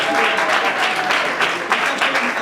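An audience at an awards ceremony breaks into applause, a dense wash of clapping that holds steady and fairly loud for the whole short stretch, with no voices over it.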